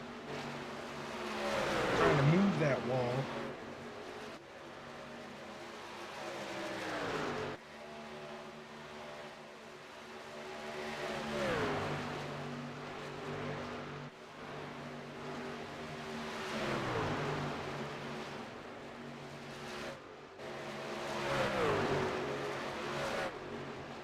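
Race cars of a towing truck series accelerating hard on a Las Vegas track, engines rising in pitch in repeated revving surges as the cars pass, loud and continuous with no talk.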